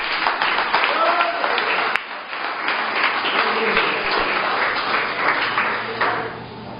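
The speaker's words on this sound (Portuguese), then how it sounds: "Dá um forte aplauso aí." A church congregation gives a strong round of applause at the close of a sermon, dense clapping filling the room with some voices mixed in, easing slightly partway through and continuing to the end.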